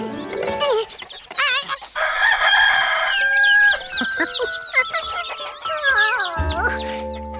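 An animated cartoon rooster crows loudly and close by, a long drawn-out call repeated, with hens clucking around it.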